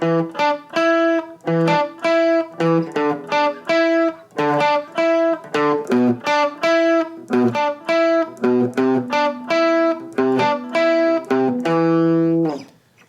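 Electric guitar plays a funky, staccato riff, with choppy muted chords and single-note stabs in a tight, repeating groove, clean and close with no talk.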